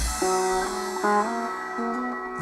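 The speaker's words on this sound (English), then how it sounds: "This is the sound of a taus, a bow-stringed instrument from central and northern India." Taus, a bowed stringed instrument from central and northern India, playing sustained, richly overtoned notes that slide between pitches in a slow melodic phrase, clear and close with no talking.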